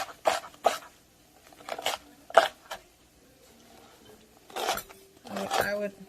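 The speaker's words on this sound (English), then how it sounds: "Okay, so I'm dicing up this onion." A knife works through a whole onion on a board in separated bursts of cutting strokes, close and fairly loud, with short pauses between them.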